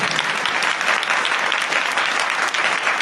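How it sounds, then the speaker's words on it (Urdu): A church congregation claps loudly and continuously, a dense, close wash of applause filling the whole short stretch without pause. "ہاں تالیاں بجائے زور دار کچھ اثر ہویا."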